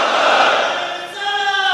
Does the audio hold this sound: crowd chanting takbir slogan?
yes